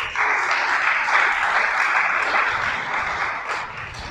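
A church congregation breaks into sustained, even applause, many hands clapping at once and holding steady at full strength for several seconds, with no voices rising above it.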